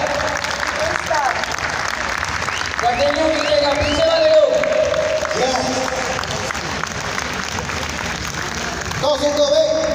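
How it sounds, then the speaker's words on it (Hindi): An audience at a solar power company CEO's speech applauds loudly and continuously, with a dense wash of clapping that carries through the whole stretch while a voice speaks over it. "जोरदार तालियां"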